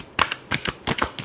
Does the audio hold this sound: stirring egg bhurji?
no